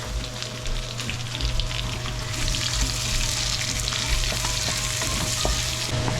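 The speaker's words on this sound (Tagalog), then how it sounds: "Ang bango ng ginisa ko" Vegetables sautéing in a pan with butter, a steady close sizzle and crackle of frying with occasional stirring scrapes throughout.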